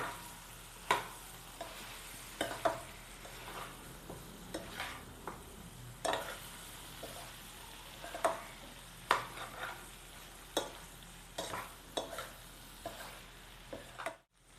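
Egg pepper masala being gently stirred in a pan after turmeric goes in, a soft spoon scraping at a slow irregular rhythm over a quiet low simmer, with no talk.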